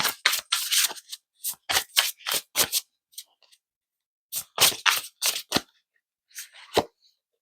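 Oracle cards pulled from a deck and shuffled during a card reading: sharp papery snaps and flicks in quick bursts, close and crisp, with pauses between clusters.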